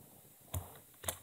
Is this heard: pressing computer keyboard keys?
yes